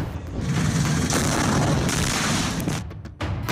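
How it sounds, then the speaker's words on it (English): Artillery shelling in eastern Ukraine gives a dense, sustained booming rumble up close, loud and unbroken for several seconds before a brief dip and resurgence. "Shelling has continued in eastern Ukraine for the last 48 hours."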